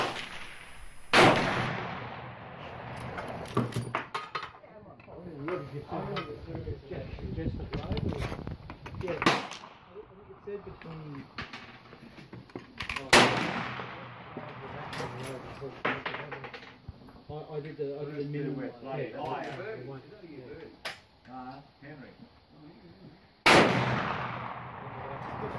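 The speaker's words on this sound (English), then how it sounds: "I'm shooting those Lyman 429, 244, 255 grain lead projectiles" A Marlin .444 lever-action rifle fires cast Lyman 255-grain lead bullets at a club shoot, with three sharp, loud shots spaced about ten seconds apart and people talking between them.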